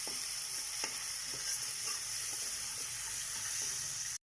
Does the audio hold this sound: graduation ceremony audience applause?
no